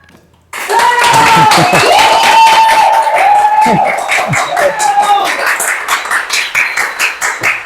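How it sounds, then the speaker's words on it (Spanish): A studio audience in a room applauds: a sudden loud burst of dense clapping that holds, then thins into a more distinct rhythm of claps while a voice talks over it. "El público de acá, de la sala, acá aplaude"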